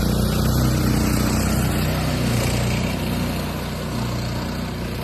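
A mud motor driven by a 420cc engine runs on a john boat, giving a steady, loud low-pitched drone with an even rumble that holds for the whole stretch and eases slightly toward the end.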